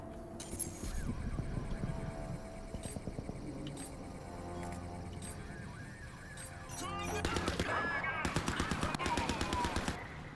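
A mounted turret machine gun in the shooter game Crysis 3 fires in long rattling bursts, growing louder and denser toward the end, with other game noise underneath.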